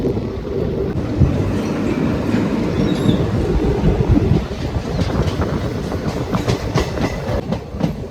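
A Thrissur-Kannur Express rolls into Pattambi railway station, heard from on board with a steady loud rumble and rhythmic clickety-clack of wheels over rail joints, plus wind buffeting and faint squeals.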